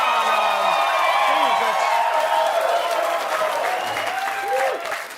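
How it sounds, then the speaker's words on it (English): Studio audience applause with cheers and whoops under clear speech from a late-night talk show host, a broad wash of clapping that stays level throughout. "you clap too loud"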